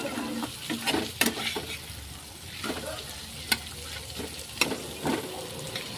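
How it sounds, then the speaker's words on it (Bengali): Onions frying in a pan being stirred, with soft sizzling under scattered scrapes and knocks of a spoon against the pan, close and moderately quiet, no talking. "সুন্দর করে নাড়বো যাতে না পুড়ে যায়।"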